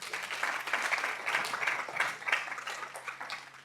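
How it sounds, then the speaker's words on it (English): An audience at a panel event applauds, giving a soft, steady wash of clapping from many hands at a moderate distance for a few seconds. "give yourselves a round of applause."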